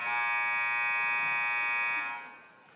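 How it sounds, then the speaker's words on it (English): A basketball game buzzer at a high school boys' game sounds one long, loud, steady electronic tone for about two seconds before cutting off and leaving quiet room noise. "I had to wait that buzzer out just a second"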